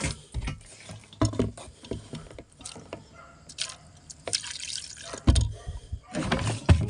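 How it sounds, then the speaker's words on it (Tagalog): Water is added to a cooking pot of rice seasoned with salt at an outdoor evacuation site, heard as close, intermittent splashing and pouring bursts between clatters of the pot. "Tapos konting tubig din."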